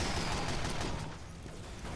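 Dense, continuous gunfire and explosions from a Team Fortress 2 match fill the mix, loud and chaotic without letting up.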